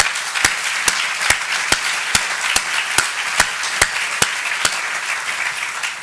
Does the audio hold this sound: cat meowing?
no